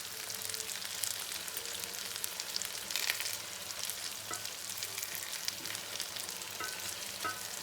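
Brinjal frying in oil in a pan, producing a soft, steady sizzle with faint crackles and occasional stirring scrapes, fairly quiet and without voices.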